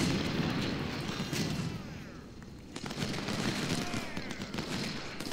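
Artillery firing downhill during a Civil War battle at Antietam in the game Ultimate General: Civil War, heard as a dense, continuous rumble of booms and crackling fire that stays loud throughout, with a brief dip midway.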